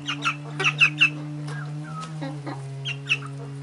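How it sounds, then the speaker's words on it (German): Young roosters with breaking voices give short, squeaky, cracking calls and clucks close by, over a steady low mechanical hum. "Hahn, dahinter Hahn."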